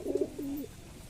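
A Kalshira pigeon gives one short, soft coo up close, then the sound trails off into quiet.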